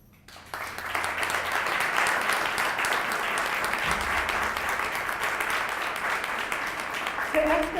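Sustained audience applause at an academic awards ceremony for a recipient, a dense steady wash of many hands clapping that starts abruptly and holds loud and even, with a brief voice near the end.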